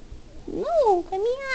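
A pet cat named Kiki or Dora lets out two drawn-out, rising-and-falling meows close by, with brief low noise before them.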